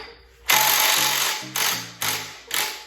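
A Ryobi power tool, likely an impact driver, hammers at a tight part on a 1991 Nissan Sentra B13 SR20VE engine, one long rattling burst then three shorter pulses, loud and close.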